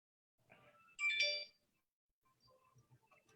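A phone ringtone sounds as a short, bright melodic chime, loud for about half a second before cutting off. Quiet murmurs and soft clicks surround it in an otherwise hushed room.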